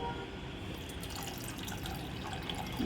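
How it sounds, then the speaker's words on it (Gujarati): Water runs steadily into a cooking pot of dal for a few seconds, a continuous splashing pour with no voices. "આપણે જેટલું પાણી એડ કરવું હોય એટલું કરી દેવાનું"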